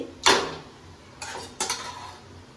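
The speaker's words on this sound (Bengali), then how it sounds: "কড়াই বসিয়ে দিয়েছি।" A kadai, a deep wok, set on a kitchen stove before frying pabda fish gives one sharp metallic clank, then two lighter rattling knocks of pans, close and loud, with no speech.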